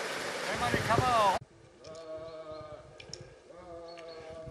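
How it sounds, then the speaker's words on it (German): Sheep bleat beside a walking path on the Camino de Santiago, a loud wavering bleat in the opening second and a half followed by quieter outdoor sound with people talking. "Schöne Schafe am Wegesrand."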